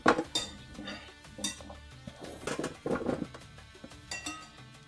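Vegetables spread by hand around a turkey in a roaster, producing a string of clinks and clatters of metal and utensils, with irregular knocks and soft rustles close by.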